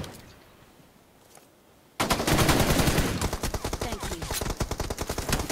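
Rapid automatic gunfire from the battle royale game BGMI bursts in after a quiet lead-in, loud and dense with fast repeated shots continuing to the end.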